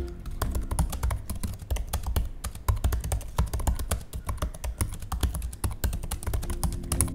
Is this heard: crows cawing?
no